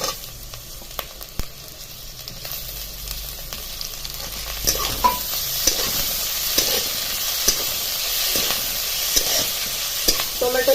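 Onion and tomato sizzle and fry in a pan while a spoon stirs them, a steady hiss broken by scraping stirs that repeat through the clip.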